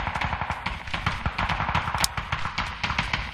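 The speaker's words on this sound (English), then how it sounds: "Two shots." Rapid bursts of gunfire in a competitive team shooter match, sharp cracks firing in quick succession over a steady background rumble, loud and close throughout without any talk.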